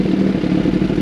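A Kawasaki ZX10R Gen 6 sport motorcycle idling after a Sloth Performance flash, a brief, loud, steady low engine rumble with light mechanical clatter, heard up close.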